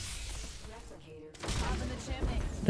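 Gunfire in the Apex Legends video game, a burst of rapid shots that swells loudly after a brief lull, with someone talking over the action.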